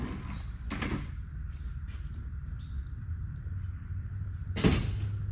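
A Ford F150 door shuts with a sharp thud early on, then a second louder knock closes things out over a steady low hum, close by and without talk.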